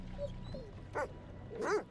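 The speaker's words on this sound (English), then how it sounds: "That's our dog?" A dog in The Devil in Me video game gives a couple of short, quiet yips and whimpers, two brief bursts close together over a low background hum.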